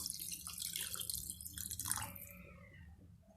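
Water splashes and trickles steadily into a pot of rice for peas pulao, with broadband hissing that thins out toward the end.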